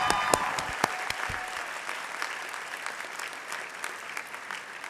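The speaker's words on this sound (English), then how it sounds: "show them your appreciation through your applause" Audience applause at a June graduation convocation ceremony, a steady mass of clapping with a few sharper claps standing out near the start, continuing evenly throughout.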